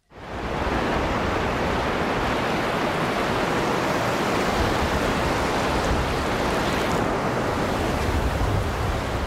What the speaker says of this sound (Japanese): 移動中に波の音は違うのかなと思いまして録音してみましたが